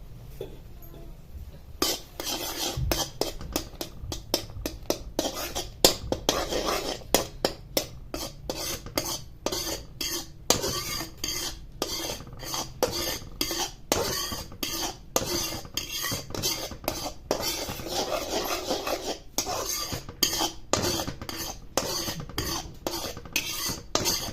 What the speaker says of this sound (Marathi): सारखं स्टर करत राहायचे जेणेकरून हे आटलं जाईल दूध आणि आपला खवा तयार होईल